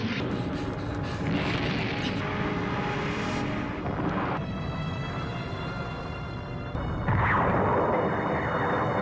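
A large explosion in an animated science-fiction film on a planet named Nasca brings rumbling, booming blasts over a dense roar, with sharp bursts and a final swelling surge, and no speech over it.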